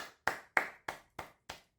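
Slow, evenly spaced hand claps offered in tribute to the late racing driver Bird Clemente: six separate, soft claps about a third of a second apart, with silence between them.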